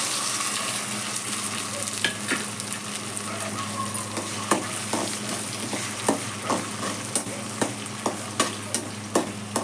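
Chopped tomatoes and onions frying in oil in a pan for a ridge gourd and chana dal curry, a continuous close sizzle with a regular series of sharp spatula scrapes and taps building toward the end.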